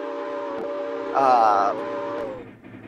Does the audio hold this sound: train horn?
yes